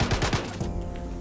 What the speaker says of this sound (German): Mit den letzten 5 Schuss noch getroffen